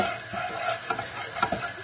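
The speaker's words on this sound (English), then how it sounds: "just keep stirring it and keep it on the heat, and it'll just be cooking out the flour" A flour roux for seafood chowder being stirred in a hot pan, with short close scraping strokes over a soft sizzle for a brief moment and no talking.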